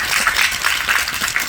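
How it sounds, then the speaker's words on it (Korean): An audience at a Korean film screening Q&A claps for the production company head, with steady, moderately loud applause from the crowd. "이 자리를 빌어서 제작사 대표님께 박수"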